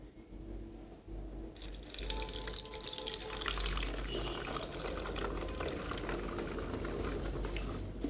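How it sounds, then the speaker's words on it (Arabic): Vinegar pours through a funnel into a glass bottle, a steady close trickle and gurgle that starts after a brief pause and keeps running evenly to the end. "ونبدأ بصب الخل إلى ربع الزجاجة تقريبا كما ستشاهدون"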